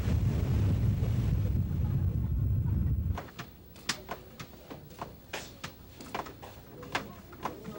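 High waves and strong wind roar at sea around Oeyeon Island, Korea, a loud, churning rush for about three seconds before giving way to a much quieter scene of scattered sharp clacks.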